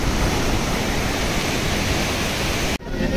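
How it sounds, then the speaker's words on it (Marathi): A river near Badrinath in the mountains rushes past with great force, making a loud, steady, broadband roar that fills the scene close by, with a brief dip near the end and no talking. "आणि इथे नदी वाहते अशी. मित्रांनो नदीला फोर्स बघा किती आहे."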